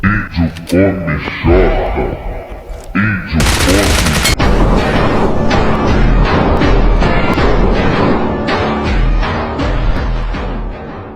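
Rapid gunfire bursts and heavy booms from the mobile battle-royale shooter PUBG Mobile, loud and nearly continuous, with someone talking over the shooting throughout.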